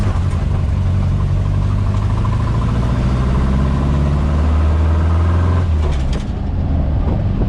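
A vehicle running on freshly cleaned and tuned Kadron carburetors climbs a hill, its engine droning loud and steady from inside the cabin, then easing off near the end.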